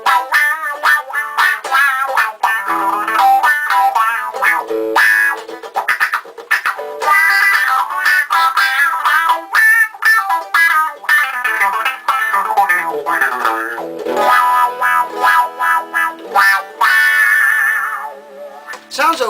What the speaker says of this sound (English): and here's the wah.